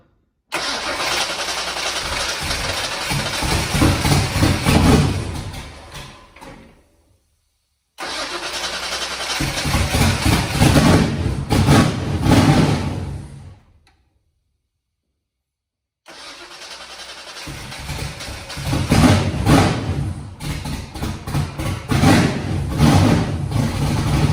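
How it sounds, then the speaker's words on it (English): A Ford Foxbody with a 408 engine and Terminator X fuel injection cranks and fires three times, each run loud and rough, sputtering and failing to settle into an idle before cutting out into silence. "let's try to start this thing again and see if it'll idle on its own"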